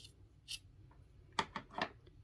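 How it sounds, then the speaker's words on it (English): Scissors trim the loose crochet yarn strands on an elf hat ornament with a few quiet, close snips, separated by brief pauses. "And then you just need to trim it."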